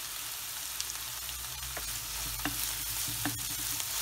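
Ginger and crushed garlic sautéing in a pan, giving a constant close sizzle with a few sharp scrapes and clicks of a stirring spoon, no talking.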